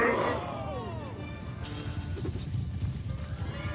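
Horses in an Old Realms Warhammer mod battle: a whinny opens, followed by clattering hooves and mechanical clanks amid combat noise, moderately loud.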